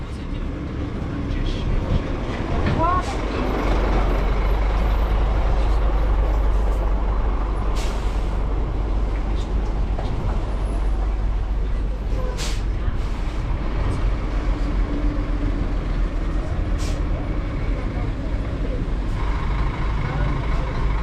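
Trucks and cars rumble past each other on a narrow rural road through a Hmong village in Xaysomboun, Laos, with a sharp air-brake hiss and a steady low engine drone throughout, close and loud.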